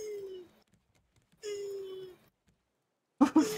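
Turtles mating in the survival video game Raft make two drawn-out, low sighing groans, each under a second long, separated by a pause, before a brief burst of nearby voices.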